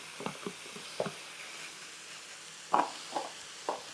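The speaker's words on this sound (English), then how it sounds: "Our meat is cooking nicely here." Meat fries in a pan with garlic added, a soft steady sizzle with intermittent scrapes and pokes of a utensil scattered across a few seconds.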